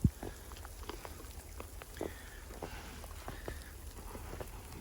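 Freezing rain and bits of ice patter on surfaces outdoors in winter, a faint, steady scatter of small sharp ticks and taps with an occasional louder hit.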